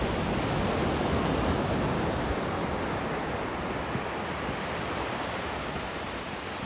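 Small ocean surf at Arambol beach in Goa, a constant soft wash of breaking water and hiss at moderate distance, even and unbroken, with no voices.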